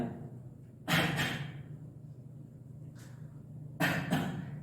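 A voice imitates a cough, producing two short bursts of coughing, a quieter one, then another pair, in a quiet room.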